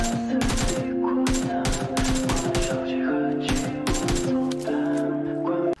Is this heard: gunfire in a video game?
yes